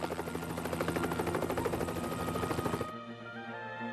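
Rapid, loud thudding of a presidential helicopter's rotor blades chops steadily for almost three seconds, then cuts abruptly to a lower lingering engine whine.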